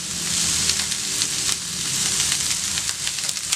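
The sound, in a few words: vegetables sautéing with salt in a pan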